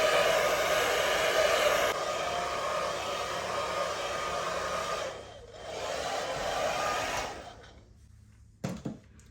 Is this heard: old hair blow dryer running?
yes